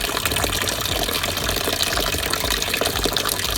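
Natural mineral spring water flowing from a mountain, a dense, continuous splashing gush close by, with no voices.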